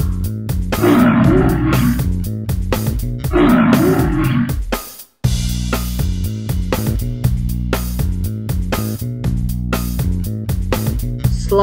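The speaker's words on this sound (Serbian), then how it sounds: "Lav." A lion gives two deep, loud roars back to back, set over steady background music in a children's animal-sounds presentation, then the music carries on alone.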